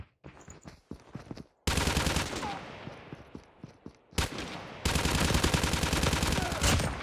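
Rapid automatic gunfire crackles in the mobile battle royale game Call of Duty Mobile, first in scattered bursts, then sustained loud sprays of shots with brief gaps, over game ambience.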